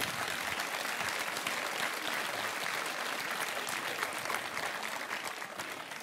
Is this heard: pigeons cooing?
no